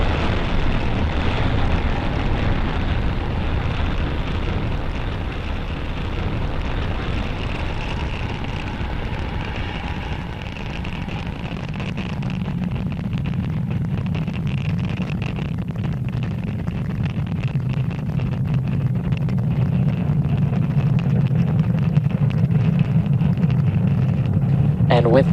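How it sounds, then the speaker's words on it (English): Falcon 9 rocket lifting off from Space Launch Complex 40: a continuous heavy, deep roar and rumble that swells and thickens over time, with broadcast voices speaking underneath. "And with that successful liftoff of our Falcon 9 vehicle"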